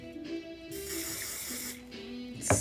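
A spray bottle mists water onto hair while it is styled for a Dapper Day outing: one long hissing spray burst, then a quick short spritz at the end, close up and fairly soft.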